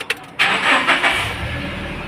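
A car engine cranks and turns over after a brief pause, then settles into a steady low running hum, close and fairly loud with no talk over it.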